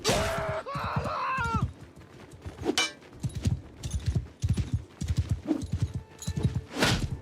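Horse hooves clatter in a fast, rhythmic clip-clop in the Old Realms mod, with a whinny near the start, and voices cut in briefly.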